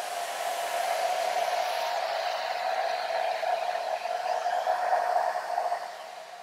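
A hair dryer blows on scrunched wet hair held with small clips, a loud steady whooshing hum with a strong motor tone that wavers slightly as it moves, close by and alone, easing off at the very end.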